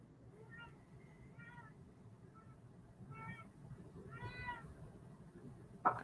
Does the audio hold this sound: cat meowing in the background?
yes